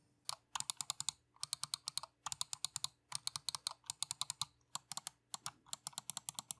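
Rapid crisp clicks from the switches of a budget CSL gaming mouse come in quick bursts with short pauses between, sharp and close-miked, with no voices present.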